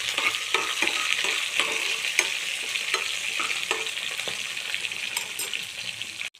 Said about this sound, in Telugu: 4-5 వెల్లిపాయలు, అదేవిధంగా ఒక చిన్న అల్లం ముక్క అండి. చాలా టేస్టీగా ఉంటుంది పచ్చడి. వేసుకొని చక్కగా ఫ్రై చేసుకోవాలండి.